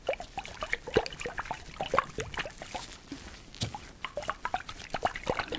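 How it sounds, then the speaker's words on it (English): Close, crisp clinks and taps of ice globes, with faint liquid drips and soft knocks scattered irregularly, quiet and intimate. "Tell me when you hear the ice globes."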